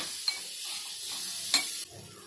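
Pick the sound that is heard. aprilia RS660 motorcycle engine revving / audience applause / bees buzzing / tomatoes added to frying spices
tomatoes added to frying spices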